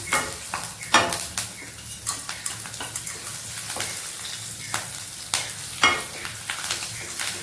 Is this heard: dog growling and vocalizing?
no